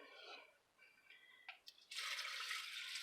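Fresh spring water, 1.5 cups, poured into a bowl of rinsed jasmine rice: soft, close drips and small trickles, then a steady gentle pour for the final second.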